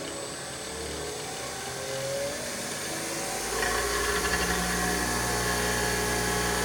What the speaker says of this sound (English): And now that's 120 Hertz. So theoretically 3600 RPM setting on the grinder.